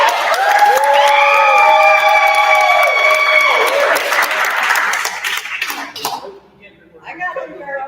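A studio audience claps and cheers loudly, with whoops and raised voices over a dense patter of hands, then the noise dies away into scattered claps and talking.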